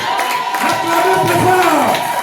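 Church congregation cheering and acclaiming at a Sunday service, loud crowd shouts and rising voices layered with scattered clapping, dense and continuous.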